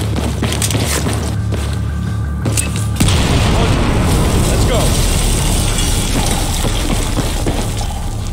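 A heavy blast from detonated crate explosives in the Battlefield 4 campaign, a loud boom at about three seconds that swells into a sustained roar of debris and rumble, with gunfire-like crackle and background noise throughout.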